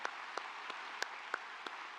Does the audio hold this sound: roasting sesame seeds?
no